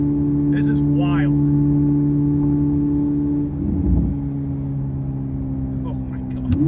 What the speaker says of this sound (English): Then all of a sudden you hear the turbos start spooling